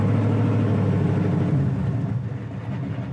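A 1968 Chevelle's engine pulls as the car accelerates on the road, a loud, close, steady low rumble and whir that eases slightly toward the end, heard from inside the car without talk.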